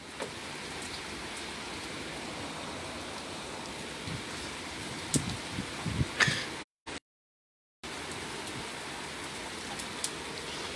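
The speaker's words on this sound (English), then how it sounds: "So it's raining hard right now" Heavy rain from Hurricane Delta on a stormy night, a dense steady hiss of downpour with a few louder patters and drips, briefly cutting out to silence near the end.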